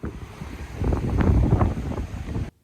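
Strong Atlantic storm wind on the Irish coast roars and buffets the microphone, rising to a gusty peak before cutting off abruptly.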